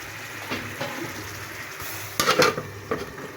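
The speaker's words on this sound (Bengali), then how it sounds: "আর এখন আমি এটাকে একটু ঢাকনা দিয়ে ঢেকে দেবো।" A metal lid clanks onto a pan of cooking potol, a few sharp bright knocks and scrapes standing out over a quiet, low kitchen background.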